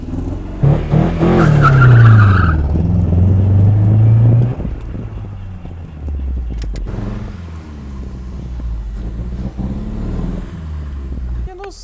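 A Nissan 200SX S13 drift car, weak after standing unused for nine years, revs loudly with tire squeal for several seconds, then settles into a lower engine drone, heard close up with people talking over it.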